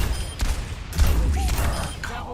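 A DPS hero in a video game fires off a whole clip in a quick burst of gunshots, with close, sharp reports and low booms. A voice talks faintly underneath.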